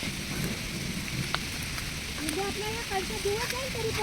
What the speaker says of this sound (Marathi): एवढा पाऊस आला ना की बराच जबरदस्त पाऊस आला